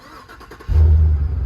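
A 2015 GMC Yukon Denali XL 4x4 starts by remote: a faint click, then the engine catches with a loud low rumble that settles into a steady idle nearby.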